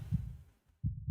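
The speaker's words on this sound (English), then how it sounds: "I hear heartbeats and I don't like it" Heartbeat sound effect in a horror video game, deep muffled double thumps pulsing low and close, two beats with a short pause between.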